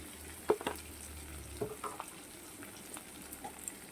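Lote fish frying in a pan with turmeric and chili powder gives a soft, quiet sizzle with a few faint clicks of stirring.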